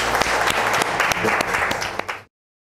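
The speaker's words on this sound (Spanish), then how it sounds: "Aplausos para la abuela de Dolly también" Studio audience on a Spanish-language talk show breaks into steady, dense applause with sharp individual claps standing out, holding for about two seconds before cutting off abruptly.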